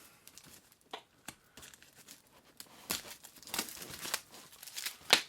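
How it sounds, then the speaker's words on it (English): Someone cuts into and tears open a cardboard package box, with scattered crinkles, scrapes and rips that grow louder toward the end and finish on one sharp tear. "We're going to cut this thing open."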